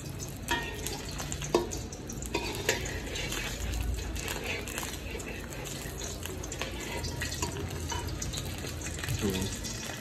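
An egg frying in a pan while being turned to cook on all sides, giving a steady broadband sizzle with scattered clinks and stirring scrapes, close and moderately loud throughout.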